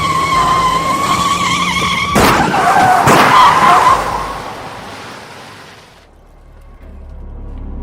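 Loud tire squeal from a car skidding at high speed, a sustained screech broken by two sharp bursts, then fading away before a low rumble returns.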